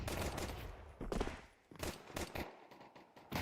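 Counter-Strike 2 gunfire comes in quick, sharp automatic bursts and single shots, near and loud, with brief gaps between the volleys.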